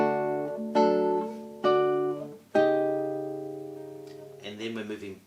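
A classical guitar plays a chord sequence from Albéniz's Sevilla: three strummed chords ring out in turn, the last one sustaining and decaying for a while, followed by a quicker, rasgueado-like flourish at the end.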